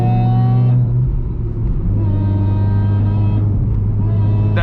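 A Toyota Altezza fitted with a Blitz supercharger drives along, its engine a loud, close rumbling drone with a brief dip in revs before settling into a steady pull; no one speaks.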